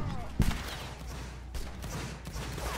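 Musket volleys fire in a Napoleonic Wars multiplayer battle, one sharp close shot followed by scattered distant cracks over a steady ambient rumble.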